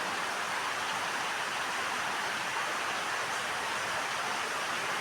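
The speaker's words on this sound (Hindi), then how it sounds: "इसमें बारिश भी हो रही है बहुत तेज" Heavy rain pours steadily as a dense, constant hiss with no breaks, fairly loud and unchanging, with no voices over it.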